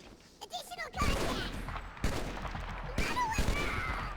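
Battle machine gun fire in Halo CE, heard as several loud sustained bursts of rapid automatic shots with brief breaks between them, close and dense, set against a game background.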